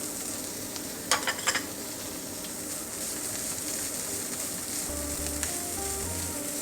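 Garlic frying in cooking oil in a wok for Penang-style fried rice cake (char koay kak), a steady close sizzle with a few sharp spatula scrapes early on and no talk.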